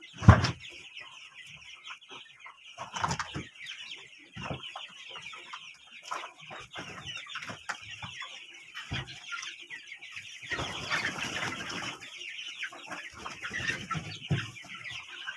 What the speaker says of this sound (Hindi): मुर्गी देख सकते हैं निकल चुकी है मुर्गियाँ सब